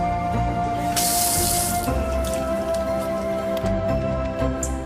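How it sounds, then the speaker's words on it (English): Hands washed with soap under a running tap after handling a cytotoxic spill kit, a steady close splash of water into a sink with a brief louder gush near the start, no talking. "wash your hands with soap and water"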